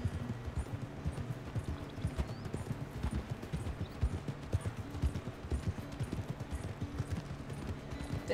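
Horse hooves clip-clop steadily in Red Dead Redemption 2, a regular walking rhythm heard up close over a low rumbling game background, with no talk.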